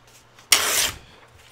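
Scissors cutting through a piece of a junk mail paper envelope: one quick, crisp snip lasting under half a second, close and clear against quiet.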